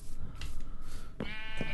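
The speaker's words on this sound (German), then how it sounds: "Also Schafe kloppen." Sheep in the Minecraft video game bleat twice as they are struck, each wavering cry short and close, set over a steady bed of game background sound.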